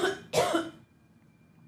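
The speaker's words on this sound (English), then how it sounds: "I got a cough." A single harsh cough, close and fairly loud, with a brief noisy burst and a short tail of room tone, then a faint second sound at the very end.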